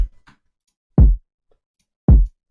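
Hard-clipping kick drum layered with bass in a hyperpop beat: two heavy, punchy low thumps about a second apart, separated by silence.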